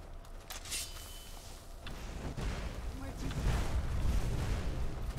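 Explosions in the video game Skyrim: a deep rumbling boom that swells and stays loud over the last few seconds, with crackling debris on top and a voice talking faintly underneath.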